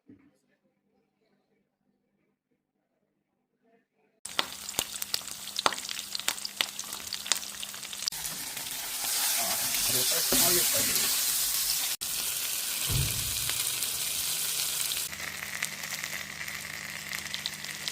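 After a near-silent opening, a pan erupts into loud, steady frying as a Kerala-style spicy-marinated sea fish is laid in, the sizzle holding strong with occasional shifts, and a voice talks at times over it.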